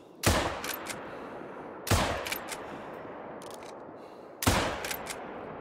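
Three loud rifle shots from theHunter: Call of the Wild, fired at swamp pigs, each a sharp crack with a short echoing tail, spaced about two seconds apart with no talk.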